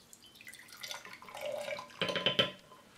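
A small amount of water is poured from a container while preparing an image transfer onto canvas, a light trickle building to a brief splashy pour near the end, close and fairly quiet.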